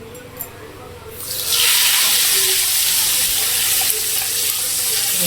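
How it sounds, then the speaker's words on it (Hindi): Cumin seeds hit hot cooking oil in a home kitchen, and a loud, steady sizzle and crackle rises suddenly and then holds strong to the end. "तो यहाँ जीरा चटक रहा है।"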